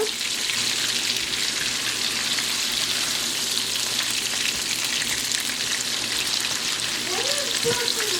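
Two onions frying in a pan for a fish and pumpkin-seed stew, a dense continuous sizzle close up with a few faint stirring touches near the end.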